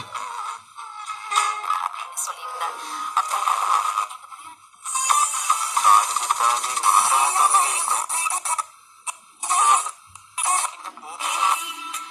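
A Lenoxx Sound portable sports radio sweeps through FM static and hiss, with snatches of broadcast sound fading in and out between bursts of noise.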